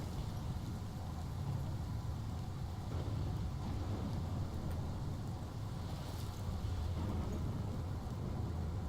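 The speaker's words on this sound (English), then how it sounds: "This is my storm." Thunderstorm in Life is Strange: a steady wash of heavy rain with a deep rumbling undertone that persists throughout, unbroken and without voices.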